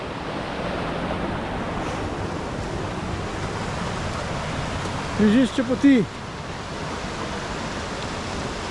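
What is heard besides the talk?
stream of the Brinta waterfall in Slovenia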